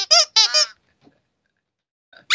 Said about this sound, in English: It has like 5 different squeaks.